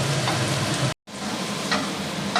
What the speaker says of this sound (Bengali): আলু পেঁয়াজ একসাথে ভাজা চলছে